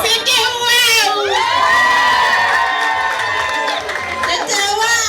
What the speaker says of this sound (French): des acclamations pour elle